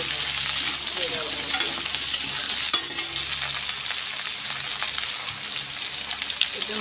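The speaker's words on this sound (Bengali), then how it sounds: "টমাটো দিয়েছি তাতে ভালো করে ঘাঁটি নেব" Tomatoes fry and sizzle steadily in a pan while a utensil stirs them with soft scraping scrapes. The sizzle is continuous and close, with small pops and clinks throughout.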